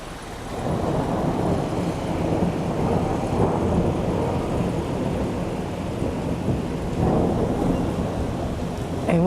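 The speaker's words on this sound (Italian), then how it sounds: "adesso ci sono i tuoni e i lampi" Deep rolling thunder rumbles through a spring storm over Quartu Sant'Elena, with steady heavy rain, a long continuous roar rising in waves, loud and close.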